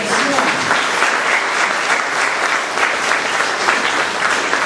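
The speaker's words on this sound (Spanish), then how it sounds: "Dale un aplauso al Señor" A church congregation claps loudly during a Spanish-language sermon, a thick, continuous roar of applause sustained evenly throughout, with voices faintly mixed in.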